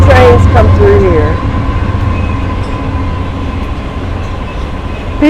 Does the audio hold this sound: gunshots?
no